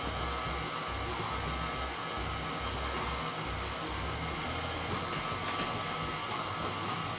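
An electric mixer runs steadily as it blends room-temperature butter into flour for a tres leches cake, a continuous close motor whir with no talking.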